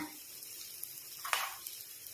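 Crushed ginger and garlic drop into softened onions frying in a pan for mutton liver fry, giving a quiet, close sizzle with a brief brighter burst of spitting partway through.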